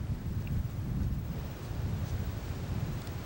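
Wind gusts across an open disc golf course, a steady low rushing buffet against the microphone, loud and constant with slight swells, no voices.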